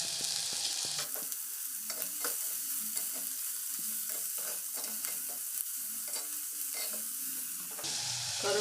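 Chili sizzles in a pan of onions while a spoon stirs it, giving a steady hiss of frying broken by repeated scraping strokes, close and moderately quiet.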